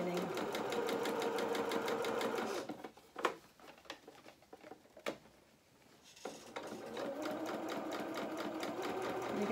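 A sewing machine stitches along a dress lining for a bodice band, its fast steady whirring loud and close, pausing midway for a few soft clicks and handling sounds before the stitching resumes.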